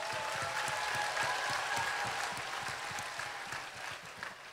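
Sustained applause for the crew at a farewell gathering, a dense wash of many hands clapping steadily for the whole stretch and easing slightly toward the end.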